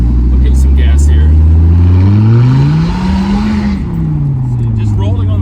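A 1995 Dodge Viper R/T 10 Roadster revs hard under throttle on new tires, its deep engine note climbing and dipping close and loud while a person talks over it.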